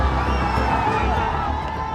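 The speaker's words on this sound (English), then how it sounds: "And the crowd surges towards Parliament." A large crowd of GenZ protesters surges towards Parliament, a dense continuous roar of many voices with shouts and cheers, steady and loud throughout.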